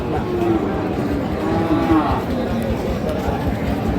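A bull calls with repeated deep moos at a Dinajpur cattle market where local-breed bulls are sold, loud and close, with nearby murmuring voices and crowd chatter underneath.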